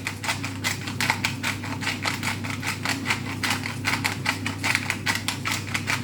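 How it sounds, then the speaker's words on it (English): Black pepper ground in a hand pepper grinder, a steady run of rapid, even crackling clicks from close by that keeps going without a break, with no talking. "A very good grind of black pepper"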